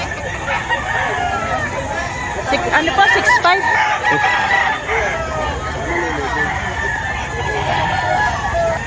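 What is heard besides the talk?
Rooster crowing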